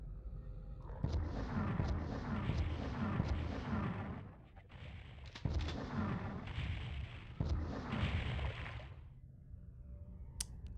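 Gunfire rings out while shooting enemies in the video game Final Doom: dense, heavy blasts in two long bursts separated by a short pause, loud and booming.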